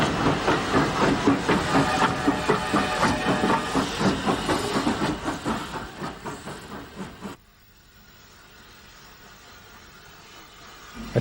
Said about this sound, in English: Push-pull set propelled by an H-class tank